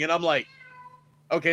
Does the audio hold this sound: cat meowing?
yes